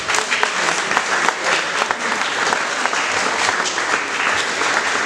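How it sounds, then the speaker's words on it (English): Sustained applause from an audience at a football club's end-of-season presentation evening, dense steady clapping throughout with no break, loud and close. "I'd like to put a round of applause to Omar Ali"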